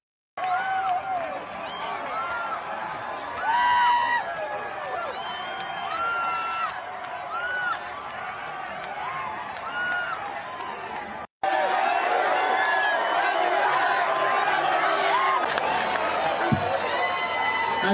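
Large crowd in Utah cheering and whooping, with a dense roar of many voices, scattered shouts and applause that swells steadily, briefly cuts out near the middle, then returns even louder and fuller.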